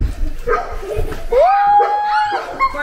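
A pet dog gives short yips and a drawn-out whining bark at close range, mixed with people's voices nearby during an indoor celebration.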